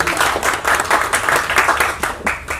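A room full of people at a hotel gathering claps in a steady round of applause, close and continuous with individual hand claps standing out, no voices on top.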